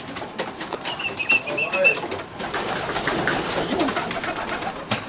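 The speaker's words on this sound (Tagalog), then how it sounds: "Lumunos pa mga kalapatid." Racing pigeons coo and call close by at a loft after a race, a continuous low murmur with a brief higher call and occasional wing or movement sounds, with faint voices behind.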